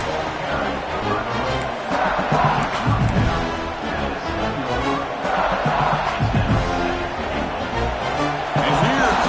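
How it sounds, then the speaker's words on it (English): A large stadium crowd in a college football video game roars steadily throughout, a dense wall of cheering voices that swells now and then without letting up. "This crowd is trying to inspire this defense to make a big red zone stop."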